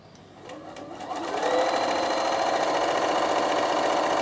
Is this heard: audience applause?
no